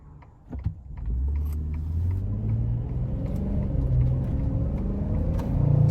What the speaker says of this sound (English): Second gear right now, floored.